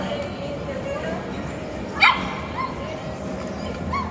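A dog, a Golden or Chow Chow out meeting a Doodle, gives a single sharp bark aimed at the other dog midway through, heard near the microphone amid steady background talk and low ambient noise.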